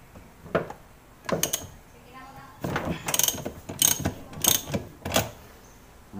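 A ratchet loosening a part on a Whirlpool automatic washing machine that spins weakly, sharp clicking ratchet bursts in short irregular strokes, close by, with someone talking briefly between strokes.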